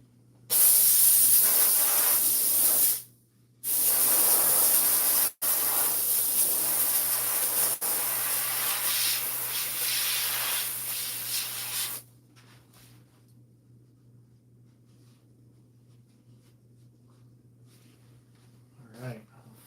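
A garment steamer hisses loudly and continuously while steaming a hat, with one brief pause, then cuts out and leaves a quiet background hum.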